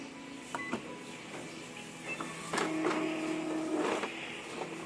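An Epson L5190 inkjet printer runs a nozzle check print, giving soft mechanical whirs and clicks, a low steady motor hum and a few brief beeps over a quiet room, with no one talking.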